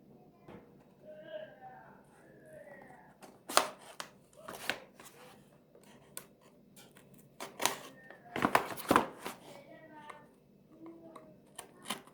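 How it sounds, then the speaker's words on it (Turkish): A box of Xiaomi earbuds being opened at close range: scattered sharp clicks, taps and tearing cardboard sounds in irregular bursts, with a louder cluster near the end, under quiet talk. "şimdi kutuyu birlikte açacağız"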